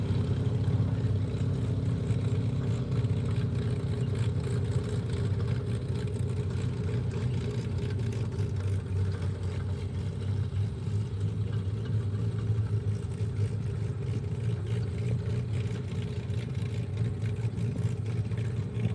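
A souped-up antique tractor engine at a tractor pull drones with a continuous deep rumble, holding steady and moderately loud for the whole stretch with no talk over it.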